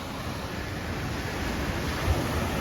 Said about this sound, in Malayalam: കടൽ പൊങ്ങി തുടങ്ങി.